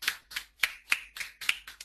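A single person clapping for a quiz winner during an online GRE verbal class, about seven crisp, evenly spaced claps, close and dry, with nothing else around them.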